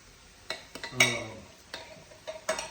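A utensil stirring kidney beans heating in a pan, several short scraping clinks spaced irregularly, close and fairly quiet with faint sizzling between.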